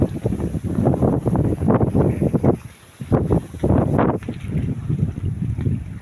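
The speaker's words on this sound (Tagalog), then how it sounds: "medyo malakas ang hangin" Strong wind buffets the microphone in heavy, continuous rumbling gusts, briefly easing for a moment before roaring back.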